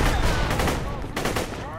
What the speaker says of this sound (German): Das war ein Kopfschuss.